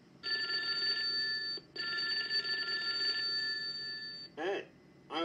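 An M&M's talking novelty telephone rings in two long electronic trills with a short gap between them, then a cartoonish voice starts speaking from the phone.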